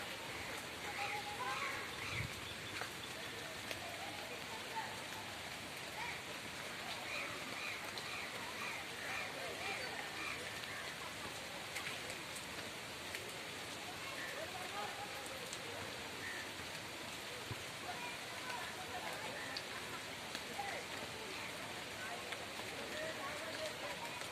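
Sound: rain falling

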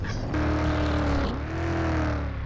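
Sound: car driving in the video game GTA

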